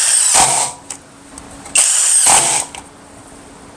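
A Kobalt 24V brushless impact driver, model KID 124B-03, sinks small screws in two loud, sharp whirring bursts separated by a quieter pause, with small clicks in between.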